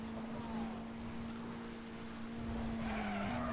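A car skids from the handbrake in the racing game Need for Speed World, a steady engine drone with a sustained tire-scrubbing hiss that swells toward the end.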